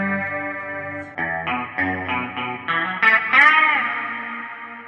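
Electric guitar played through a chorus effect pedal, a few shimmering notes and chords that build to a bright, wavering swell, loud and close with no talking.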